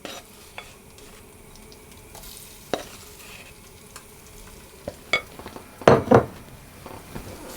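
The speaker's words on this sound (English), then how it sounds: "with some oil in the pan, I'm going to put half of the meat in, and I'm going to brown it" Steak slices browning in an oiled pan give a soft, steady sizzle beneath occasional clinks and scrapes of a utensil against the pan, with a louder clatter of stirring near the end.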